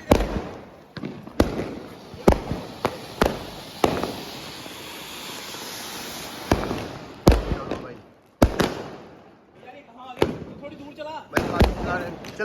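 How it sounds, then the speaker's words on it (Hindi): Diwali anar fountain fireworks burning with a steady crackling, hissing spray, punctuated by several sharp firecracker bangs nearby; people talk between the bursts. "भाई दो अनार इकट्ठे लगाए हुए हैं।"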